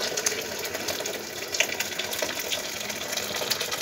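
Tap water runs steadily into a cooking pot in a home kitchen, a continuous close splashing gush that carries on alone, with no talking.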